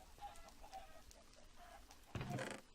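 Hungry chickens cluck in the Minecraft Better Than Wolves mod. Short, faint game clucks repeat several times, then a louder, fuller squawk burst comes near the end.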